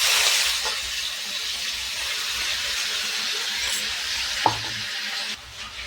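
Chopped green chilies hit hot fried garlic in a pan, setting off a loud, steady hiss of sizzling with a faint clink of a spoon stirring. Near the end the sound falls to a quieter crackle.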